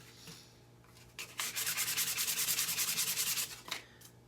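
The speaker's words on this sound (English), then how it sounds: "Should I be wearing a mask while I'm sanding rosewood?" Hand sanding of rosewood on a knife handle for a Grohmann No 4 survival knife kit, a short scrape and then a fast rhythmic run of about twenty close, brisk back-and-forth strokes, alone and loud.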